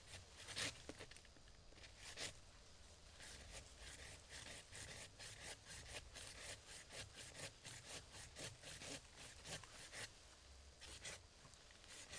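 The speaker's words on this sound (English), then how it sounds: "So you let the saw do the work, and you just basically pull backwards to get a decent cut." An Amazon Basics folding saw cuts through wood with pull strokes, making a steady, rhythmic rasp of repeated strokes that is quiet but continuous throughout.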